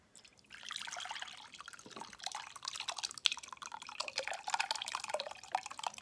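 Hot ramen broth poured into a bowl, a steady splashing, trickling stream lasting several seconds, close and moderately quiet, with no voices.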